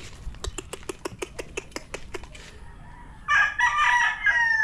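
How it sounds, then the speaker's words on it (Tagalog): A rapid run of sharp clucks gives way to a loud rooster crow close by, ringing out clearly at the end. "Ayan yung manok ni Lolo Boy."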